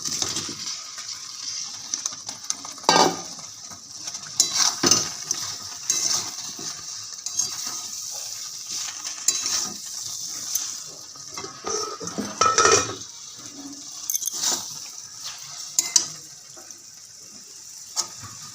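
Broccoli added to a pan of fried spices and stirred with a utensil, giving steady close scraping and clattering against the pan with a few sharper knocks over a soft sizzle, and no talking.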